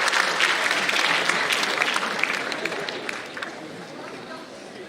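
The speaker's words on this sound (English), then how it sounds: "Please give a huge round of applause for" Conference audience applause at an Indo-Japan international academic conference, dense clapping that starts strong and gradually fades over a few seconds.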